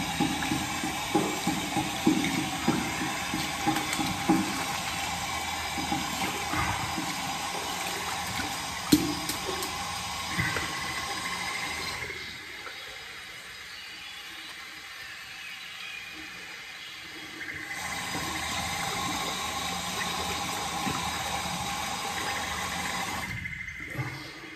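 Warm water runs steadily from a tap while a straight razor shave is prepared. It makes a broad hiss that drops away for several seconds midway before resuming, with faint clinks throughout.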